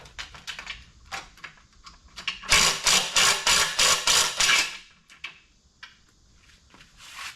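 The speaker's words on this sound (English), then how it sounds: "I've got my impact here with my 1/2-inch. I'm going to put that into my extension, and this should pop that bolt on" A 1/2-inch impact wrench on an extension hammers at a Loctite-coated transmission bolt on a 68RFE in a 2015 Ram 2500, a loud rapid burst of rattling blows lasting about two seconds, framed by quieter clicks and handling noises.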